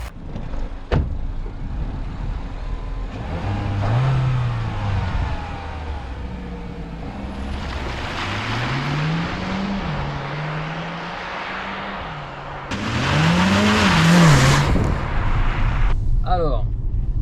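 A Peugeot 508 PSE sports car is driven on a race circuit, its engine rising and falling through gear changes with rushing road and wind noise, loud and close, with someone talking over parts of it.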